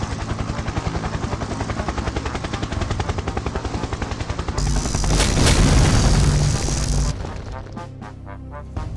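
Rapid helicopter rotor chopping is interrupted by a loud, crackling explosion that roars for a couple of seconds, then fades into lighter rumbling and debris.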